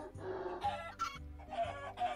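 Chicken clucking in the Minecraft video game during a Hypixel chicken race minigame, a quick run of short repeated clucks, close and clear with no talk over it.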